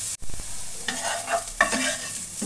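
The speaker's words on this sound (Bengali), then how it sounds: "একটু সময় নিয়ে ভালো করে ভেজে নিতে হবে।" Radish being fried and stirred in a pan with a bay leaf for a sweet sandesh: close, steady sizzling with scraping spatula strokes across the pan, no voices.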